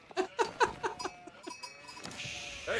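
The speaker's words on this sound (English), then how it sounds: "I hear sheep too." Sheep bleat in a video game, a quick run of five or six short, nasal cries in a steady rhythm, followed by fainter, scattered bleats and soft game sounds.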